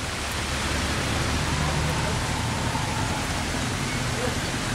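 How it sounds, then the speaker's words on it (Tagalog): Steady, dense hiss of heavy rain pouring down continuously, loud and close, with no other sounds standing out. "ang lakas ng ulan na to"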